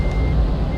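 In a truck driving simulator game, a truck's reversing beep sounds as a steady tonal alarm over a continuous low engine drone, loud and close, with no talk.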